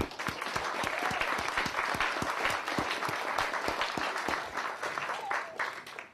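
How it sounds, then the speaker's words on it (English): A lecture audience claps steadily throughout, a dense, close wash of many hands at a talk on ancient Egyptian acoustics and sound healing, with no voices rising above the applause. "let's give them all a big round of applause"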